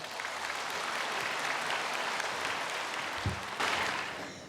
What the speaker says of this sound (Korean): 나오실 때 우리 모두가 다 따뜻한 박수로 환영해 주십시오